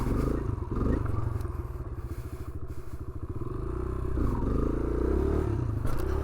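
A motorcycle pulling a wheelie, its engine revving and then dropping sharply as the rear brake catches it before the revs climb again, recorded close and moderately loud.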